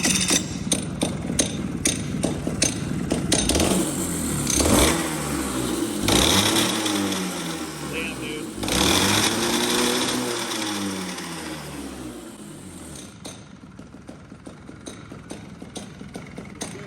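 A Rotax Max racing kart engine revs hard during a burnout, its loud, buzzing pitch repeatedly climbing and falling as the throttle opens and closes, then settling into a lower rattling idle toward the end.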